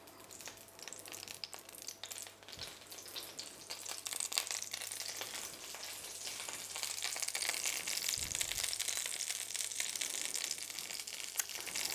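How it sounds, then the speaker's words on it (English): Gyoza dumplings sizzle in sesame oil in a pan, a bright steady crackling hiss that swells louder partway through and holds close and strong without any talking. "You wanna hear that sizzle."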